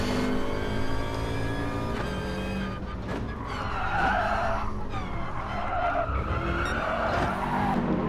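Touring car spinning out in an online racing game, a steady engine drone with a long tire skid and squeal building over several seconds, loud and up close, with no talking over it.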